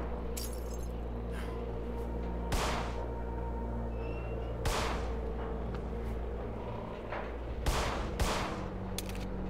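Sparse gunshots from a first-person horror game set in an abandoned factory, sharp reports landing every two seconds or so over a steady low ambient drone, with no talking.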